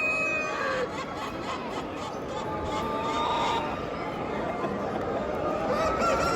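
Australorp chickens and a rooster at a national poultry show, calling from their coops in a busy hall; overlapping clucks and squawks run continuously under crowd noise and murmuring voices.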